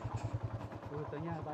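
A motorcycle engine idles nearby with a fast, even low thump on a narrow, slippery road near a waterfall, while people talk over it.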